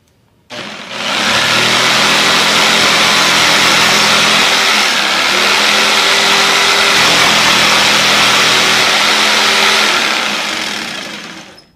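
A power saw cuts wood for a half-recessed drawer pull in a woodworking shop, a loud, steady, close whine that starts abruptly, holds for about ten seconds with a slight dip midway, then winds down; no talking.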